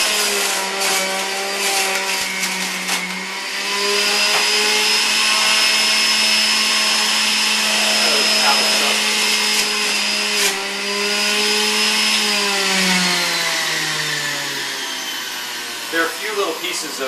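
A Breville Juice Fountain Plus JE95XL centrifugal juicer whirring loudly as it chews through celery, a sustained high motor whine that dips and bogs down near the end while pieces are fed in.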